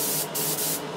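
A beginner's airbrush driven by an air compressor sprays paint for painting Warhammer 40k miniatures, a loud steady hiss of compressed air with a few brief dips in the flow.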